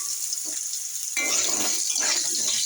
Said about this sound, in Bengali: ও তেলের মধ্যে আমি দেবো একটু আলু